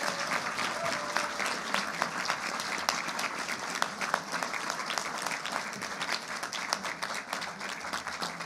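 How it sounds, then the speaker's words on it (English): An audience applauds students at a conference closing ceremony at the Royal Marine Hotel, producing sustained, dense clapping from a sizable crowd that stays fairly even for several seconds. "A round of applause to all of those students as well done."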